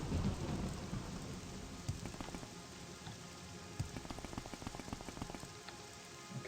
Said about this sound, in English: But this fog and rain is definitely not helping.